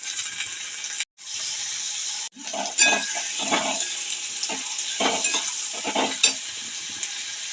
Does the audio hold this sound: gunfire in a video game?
no